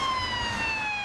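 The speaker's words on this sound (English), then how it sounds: "An ambulance races up the island highway" An ambulance siren racing up the island highway, a loud, steady wailing tone sustained throughout, close by over a low rumble of road traffic.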